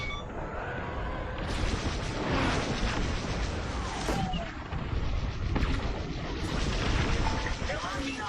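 Video game gunfire and explosions in a busy combat scene, dense rattling bursts and booms layered with beeps, continuous and loud, with voices talking over it.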